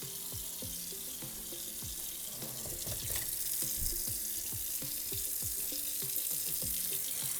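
Water runs steadily from a tap, splashing with a soft hiss, faint and continuous, with light clinks and squeaks in the background.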